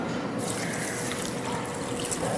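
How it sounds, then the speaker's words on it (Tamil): Water swishes and trickles steadily as soaked rice is rinsed for appam batter, a close, continuous wet sloshing with no voices. "நல்லா அலசிட்டு ஊற வைங்க"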